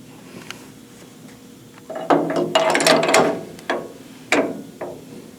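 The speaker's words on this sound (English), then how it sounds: "now we're going to cut the spring pocket with this spring pocket cutter" Spring pocket cutter cutting a valve spring pocket in a cylinder head, heard as bursts of scraping, grinding metal-on-metal chatter with a few sharp ratcheting clicks, close and fairly loud, with no talking.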